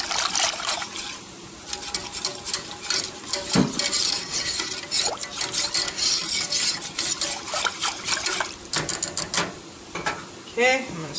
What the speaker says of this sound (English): Okay, I'm going to stir this real quick.